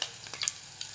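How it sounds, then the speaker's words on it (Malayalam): Curd is stirred with a fork while ginger curd is prepared, giving a brief soft wet scraping and light clicking, close up and with no talking. "നമ്മുടെ തൈര് ഒരു ഫോർക്ക് വെച്ച് നമുക്കൊന്ന് ഇളക്കി കൊടുക്കാം."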